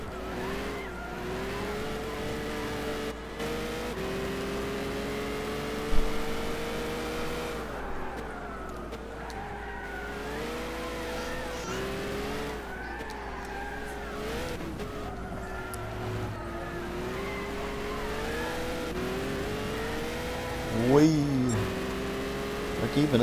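Peugeot 908 race car in Gran Turismo 6, its engine note rising and falling through gear changes with occasional tire squeal and skids, steady and close, with a voice speaking over parts of it.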